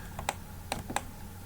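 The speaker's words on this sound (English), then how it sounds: "I'm going to press L on my keyboard." Three distinct clicks from a computer keyboard while working in drawing software, crisp and close, spaced unevenly over a low steady hum.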